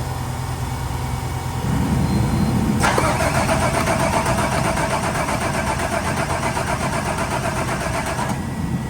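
Car engine cranked by the starter with a rapid churning whir that catches after a second or two and settles into a loud, steady, close idle with a high whine.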